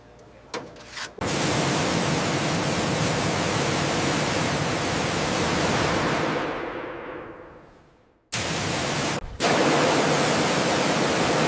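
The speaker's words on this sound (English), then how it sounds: "let's switch to the abrasive wheel on this spot." An abrasive wheel grinds corrosion off the metal of a crashed Antonov An-2 aircraft in a forest, a loud, harsh, continuous rasp that winds down to silence, then starts again briefly.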